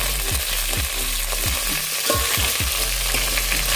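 Steamed cauliflower with two green chillies frying in a pan on a low flame for khichri, giving a dense, continuous close sizzle under a steady low hum, with repeated soft stirring scrapes; no speech.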